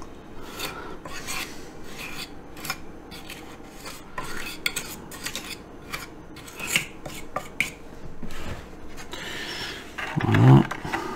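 Filler is sanded on a Hachette HMS Bounty model ship with a continuous close scratchy rasping and rubbing, irregular strokes and small clinks, ending in a louder scrape.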